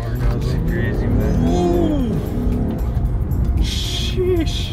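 A Lexus IS350 F Sport accelerates hard and shifts gears, engine note rising in sweeping pitch, dropping at each shift, then climbing again, loud and close from inside the car, with excited talk over it.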